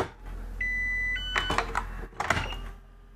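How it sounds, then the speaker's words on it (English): A battery device gives two short electronic beeps, a steady tone then a second higher beep, followed by clicks and handling noises in a quiet room. "I got a beep beep there."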